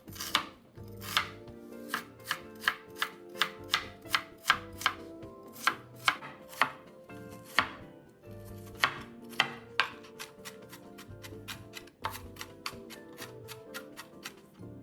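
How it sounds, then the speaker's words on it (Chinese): A knife chops an onion into small pieces on a board, with sharp, close, regularly repeated thuds in a brisk rhythm that varies slightly and pauses briefly, and no talking. "洋葱一个，100至150克都可以，一样切成颗粒状。"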